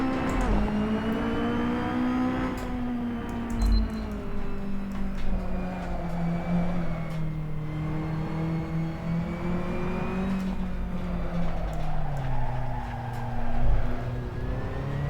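A racing car in a video game at the Interlagos circuit, driven backwards, roars steadily with shifting engine pitch as the tyres slide and scrub through a long skid, with no talk.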